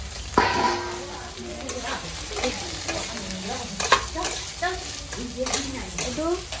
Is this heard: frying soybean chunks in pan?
yes